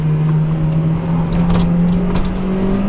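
A Mazda MX-5 Miata drives with a steady, loud engine drone from close by, holding an even pitch throughout with slight wavering and no talk.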